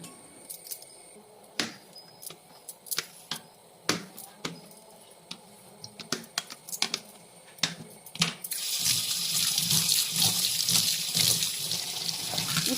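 A small lemon washed by hand at a kitchen sink: sharp clicks and taps of the lemon and fingers against the basin, then the tap opens into a steady, loud rush of running water for the last few seconds.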